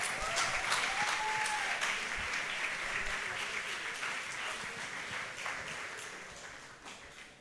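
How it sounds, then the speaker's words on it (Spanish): Applause from a concert audience for young performers, including acoustic and electric guitarists: a fairly soft, distant wash of clapping with a few sharper claps standing out, gradually fading over about seven seconds. "Un fuerte aplauso para los chicos."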